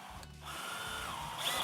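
A power drill whirs through a small plywood block inside a ready-to-assemble base sink cabinet, a short close burst that rises in pitch near the end.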